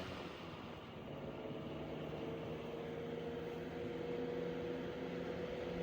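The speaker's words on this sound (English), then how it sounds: "It moves a lot of air for a 10-inch, and it has that motor whine." A c.1915 Century Electric S2-10 ten-inch oscillating desk fan runs on its low setting, giving a steady, even motor hum and airy whoosh that holds without a break for several seconds, with no voices.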